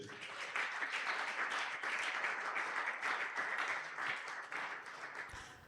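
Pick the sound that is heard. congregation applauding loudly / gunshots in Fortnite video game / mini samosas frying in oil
congregation applauding loudly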